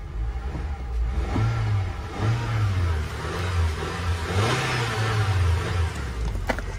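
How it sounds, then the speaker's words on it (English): A 2016 GMC Terrain engine revs up several times in a row, each rise in pitch followed by a fall back toward idle. The engine sounds loud and close, with no talking. "let's see how the engine sounds. Let's give like a couple of revs first."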